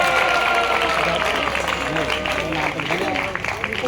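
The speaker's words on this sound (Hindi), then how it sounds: "तो एक बार जोरदार तालियां हो जाए" Audience applause at a disability day prize ceremony for a badminton winner, crowd clapping beneath voices talking, with a low hum underneath and the clapping thinning slightly toward the end.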